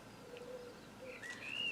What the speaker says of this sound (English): if you hear chirping, that's because I have a little forest bit behind my house